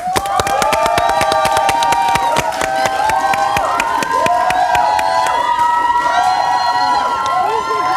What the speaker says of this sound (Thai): ปรบมือดังต้อนรับกับแฟนคลับของน้องเทียครับ